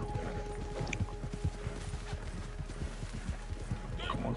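Horse hooves clip-clop in a steady, quick rhythm in Red Dead Redemption 2, close and distinct over faint background game ambience, with no speech during the passage.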